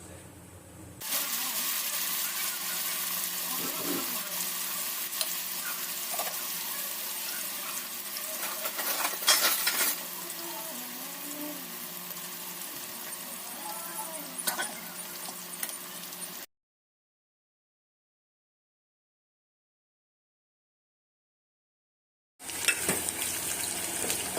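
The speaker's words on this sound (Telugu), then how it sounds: "మళ్ళీ చికెన్ ఫ్రై చేస్తాం" Chicken pieces frying in a pot of hot oil give a steady, close sizzle with a brief louder burst of bubbling from stirring, then cut to silence before the hiss returns.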